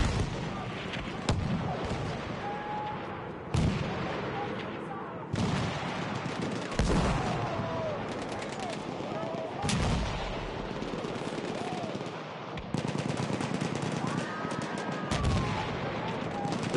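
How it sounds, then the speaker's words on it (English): Mortar barrages in a tank battle game, repeated heavy booms and blasts landing every few seconds over a constant rumbling battlefield din, with a voice talking faintly in the mix. "Voodoo Child sending in the mortars"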